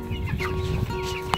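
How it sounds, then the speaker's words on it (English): Freedom Red Ranger meat chickens cluck continuously at close range, a busy flock of overlapping chirps and murmurs with one sharper call near the end. "These are Freedom Red Rangers, our meat chickens."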